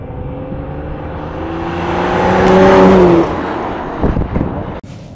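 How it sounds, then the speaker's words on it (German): A 2008 Ferrari 599 GTB Fiorano with its twelve-cylinder engine revs up, its loud, smooth tone rising and swelling to a peak before easing off, followed by a few rougher bursts and a sharp click. "Es ist ja ein 12-Zylinder-Motor."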